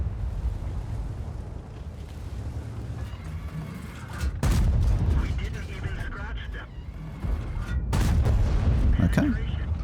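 Heavy tank cannon shots in World of Tanks, a Skoda T56 battle: two loud booming blasts about four seconds apart, each followed by a rumbling tail, over a constant engine drone while a voice speaks.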